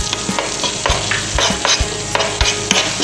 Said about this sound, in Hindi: अब इसको हम थोड़ी देर के लिए भूनेंगे इसे, ताकि मैदा का कच्चा फ्लेवर चला जाएगा।